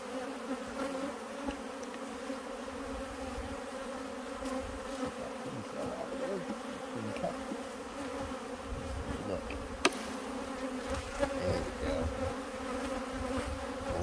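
Carniolan honey bees hum steadily around an open Giga-Hive, a dense continuous buzz close by with individual bees droning past, no voices over it.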